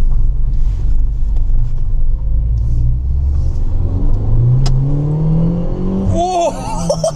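A Peugeot 208 GTI with about 200 horsepower, being restored after three years parked under a tree, idles with a low rumble and then revs up in a rising engine note under wind noise.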